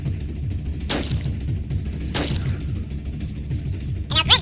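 Two heavy shots from a sniper rifle in a zombie video game boom over a steady droning game soundtrack, spaced about a second apart, followed by a brief metallic clatter at the end.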